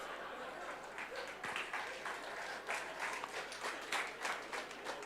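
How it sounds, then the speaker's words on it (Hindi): A lecture audience at a talk gives sustained applause, a dense wash of clapping that rises and falls slightly in waves for several seconds. "ताली भी बजा रहे हैं चांद को लेकर के।"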